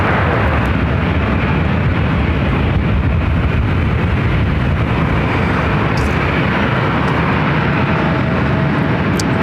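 A large airliner roars through its takeoff run at Los Angeles International Airport, a loud, steady, broadband jet thunder that holds close and constant throughout with no talk over it.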